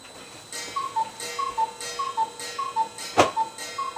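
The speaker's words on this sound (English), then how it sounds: "That's what the cuckoo says." A cuckoo clock ticks in a steady, even rhythm, its two-note cuckoo call repeating regularly over the ticks, with a sharp louder strike near the end; no one speaks.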